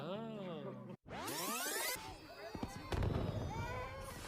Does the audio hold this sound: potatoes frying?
no